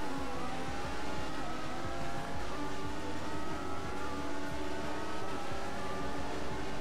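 Formula 1 Ferrari engine at full throttle in the F1 2014 racing game. A loud, steady high-pitched engine scream sustains throughout, with no talk.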